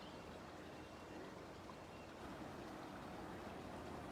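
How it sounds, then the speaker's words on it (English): A waterfall at the Highlands Biological Station garden gives a steady, broadband rushing roar, constant and fairly faint throughout, with wind mixed in and no talking. "Just enjoying the sound of the waterfall before we get going."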